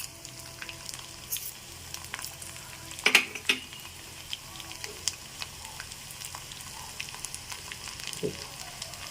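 Garlic and chana dal fry gently in oil with a soft, steady crackle, with a couple of sharper spatula clinks and scrapes at close range and no speech.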